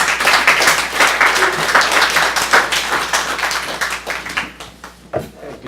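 An audience at an evening literary reading bursts into sustained, loud applause for a reader taking the stage, a dense wash of clapping that thins toward the end, with no speech.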